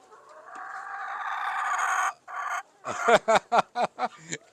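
A Lohmann Black laying hen close by gives a drawn-out rising vocal call, then a quick series of sharp, rhythmic clucks, loud and alone.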